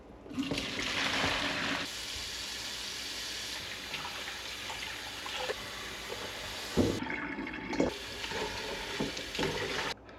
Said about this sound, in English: so let's dump the water now.